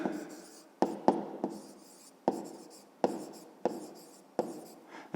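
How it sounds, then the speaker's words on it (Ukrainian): Pen writing on paper during a fifth-grade math exercise, with short scratchy strokes separated by sharp taps, close and quiet, with no voices. "Отже, пишемо різниця."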